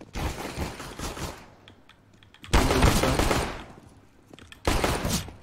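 Gunfire in a first-person shooter game comes as bursts of rapid automatic shots, loud and close, separated by brief quieter gaps.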